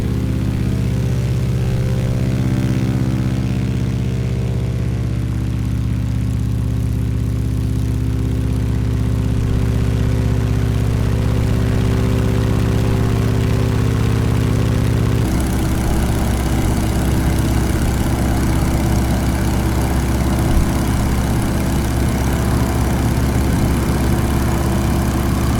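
Loud, continuous drone of a PT-17 Stearman biplane's radial piston engine heard from inside a simulated cockpit, steady and powerful, with the tone shifting midway to a harsher, rougher roar.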